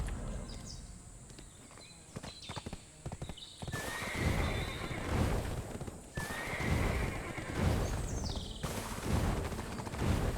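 A horse in the online role-playing game Black Desert Online clip-clops along and lets out loud whinnies, hoofbeats steady throughout with neighs rising over them, no talking.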